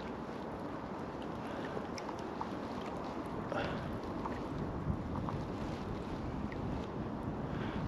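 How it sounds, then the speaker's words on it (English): Upstream wind gusting across the microphone beside the River Irvine during trout fishing in April, a steady broadband rumble and rush filling the whole stretch at moderate level with no voices. "Bit of an upstream wind."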